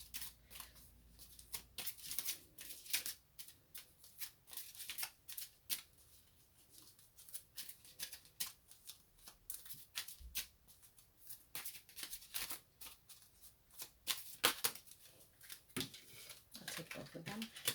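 Tarot cards are shuffled by hand for a reading, giving soft, quiet riffling and sliding bursts that come and go, with faint talk at times.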